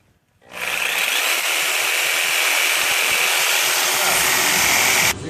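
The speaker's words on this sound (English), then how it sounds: "Cutting the walls of the ball joint, and then we'll hit it out." A reciprocating saw cuts through the walls of a seized lower ball joint on a 2006 Chrysler 300C. The loud, close, continuous rasping grind lasts about five seconds, then stops abruptly.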